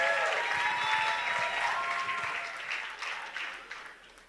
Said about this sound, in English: But one more time, give a round of applause.